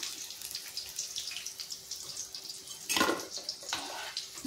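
Chicken pakoras fry crisply in hot oil, giving a steady close hiss of fine crackles that swells into a louder burst of sizzling about two-thirds through, with no voices.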